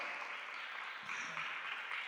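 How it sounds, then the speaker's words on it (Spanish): A church congregation claps, a faint, moderate patter of applause that thins slightly midway with a low murmur beneath. "Denme un aplauso al Señor por la vida de Bellita."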